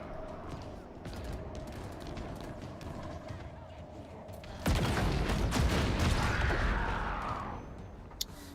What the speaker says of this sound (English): that explosion will never not be disappointing